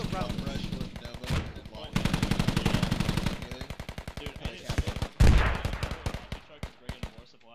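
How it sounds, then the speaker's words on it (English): Rapid automatic gunfire in a multiplayer shooter video game, long bursts of dense shots fired through a wall, loud and close, with short pauses and single heavier shots near the end. "they're shooting through the wall, man"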